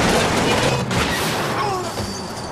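Rapid bursts of gunfire and booming blasts in the game Saints Row 2 crowd together, loud and dense, with a rumble of explosions under the shooting.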